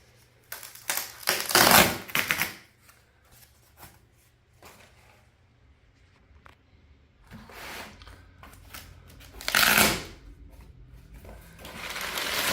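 Cardboard and plastic packaging from a K2 splitboard being handled and crumpled during unboxing, with two loud rustling bursts separated by quieter shuffling and faint handling noises, close up with no talking.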